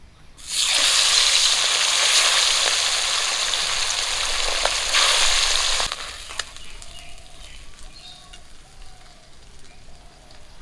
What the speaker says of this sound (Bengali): বাকি মাছগুলো একই রকম করে ভেজে নেব।